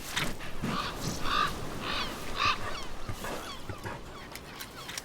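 Ravens and gulls calling on open coastal mudflats, a series of harsh, repeated honking caws at moderate distance over a steady outdoor background.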